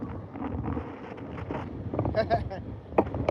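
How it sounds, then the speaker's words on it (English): Wind buffets the microphone outdoors while trout fishing at 7 Springs Resort, Pennsylvania, in low rumbling gusts while someone talks over it. "See how windy?"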